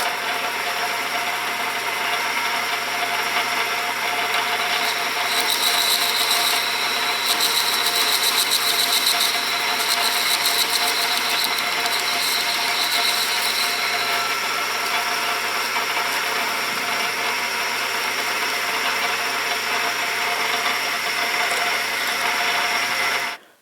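A machine squares off the face of a metal part during a pressure washer foam cannon repair, a steady close mechanical whir with a brighter, harsher cutting tone rising midway, then fading back to the running motor.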